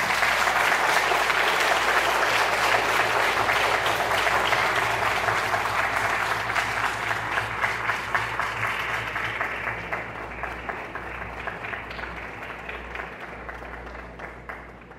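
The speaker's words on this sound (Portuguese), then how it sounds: "Uma salva de palmas." A concert audience in Hortolândia gives sustained, dense applause as a Presbyterian church choir is called to the stage. The clapping starts loud and full, then gradually tapers off over a low background hum.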